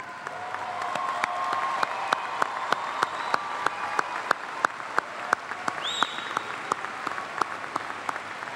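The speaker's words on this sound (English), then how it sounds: "please stand so we can give you a round of applause" A large university commencement audience applauds honors graduates as they stand, a steady wash of clapping with sharp individual claps popping out, sustained throughout.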